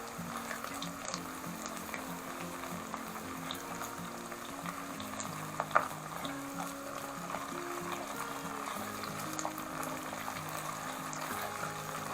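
Tomato paste sautéing with onions in a pan for a purslane dish, a steady close sizzle and bubbling frying noise with light stirring, continuous throughout with no talk.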